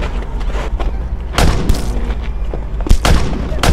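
Booming gunshots with deep, heavy thuds punch through a rumbling low background, with several sharp loud reports spaced irregularly and close.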